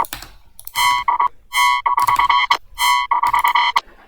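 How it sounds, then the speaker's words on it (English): A sine wave frequency-modulated by a very high sine wave and run through a flange filter gives loud buzzy, croaking synth tones, played in stuttering rhythmic bursts and short held notes separated by gaps. "This is just a sine wave, FMing from a really high sine wave and together runs through a flange filter."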